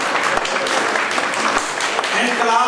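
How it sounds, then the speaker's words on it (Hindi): At an agrarian crisis workshop in Barnala, Punjab, an audience claps to welcome two guests onto the stage, dense applause with a voice speaking over it toward the end. "आप तालियों से इनका स्वागत करेंगे"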